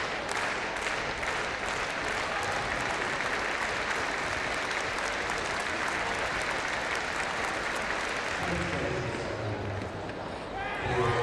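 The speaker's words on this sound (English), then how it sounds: "Another clap started from our athletes." Crowd applause and rhythmic clapping led by athletes before a triple jump at a school track and field championships, sustained and dense across the whole stretch, with a commentator's voice over it.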